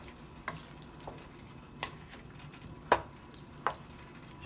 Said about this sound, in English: I'm going to put my 2 bay leaves in. And I'm going to stir that around just a little.